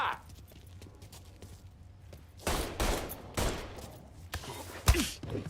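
Gunfire in the Mafia 3 game, several loud bursts of shots after a quieter stretch, with sharp cracks near the end.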